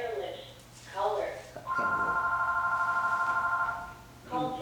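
A telephone rings in a steady electronic tone that holds for a few seconds before cutting off, with voices speaking briefly before and after the ring.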